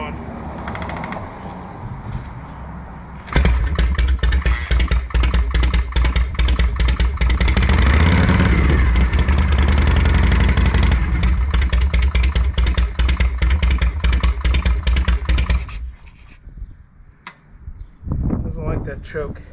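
A 1973 Shovelhead chopper motorcycle engine starts on choke, running loud and close for about twelve seconds with a rough, clattering idle before it cuts out, with talk before and after.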